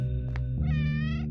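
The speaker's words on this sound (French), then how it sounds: "Il y a beaucoup de chats!" Cats meow in the video game OneShot. A short synthesized meow rises over a steady, droning low hum, with a bright harmonic tone in the second half.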